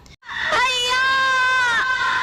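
A woman's high, sustained scream rises sharply after a brief silence and holds at full, piercing strength for nearly two seconds before tailing off. The sound is close and loud.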